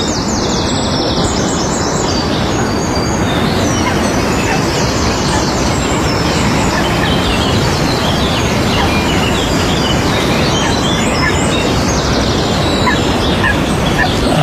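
A coot calls outdoors on a live wetland bird feed. Its chirping cries come through amid other birdsong, partly masked by a constant loud wash of heavy rain.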